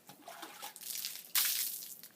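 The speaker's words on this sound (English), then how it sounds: "Finish up with rinsing the wheels, like that." Hose water rinses a bicycle's wheels, a steady hissing spray that shifts as the stream moves, then gets suddenly louder and brighter partway through as it hits closer, with no talk.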